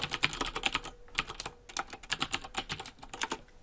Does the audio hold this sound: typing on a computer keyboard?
yes